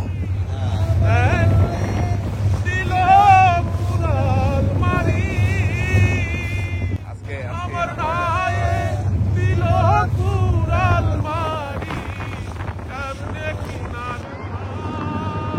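A trawler boat's engine drones steadily at a low pitch throughout, with wind buffeting and people talking over it.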